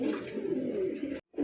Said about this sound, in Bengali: এই মুহূর্তে স্ক্রিনে দেখতে পাচ্ছেন দুইটা কবুতর